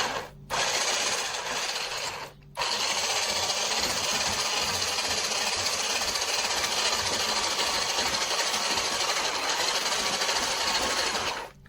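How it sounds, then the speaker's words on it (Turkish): Eggs being whisked into choux pastry dough for profiteroles, a loud, steady mechanical whirring buzz that runs almost without a break after two brief cut-outs near the start. "Şimdi yumurta ve hamurumuzu çırpacağız."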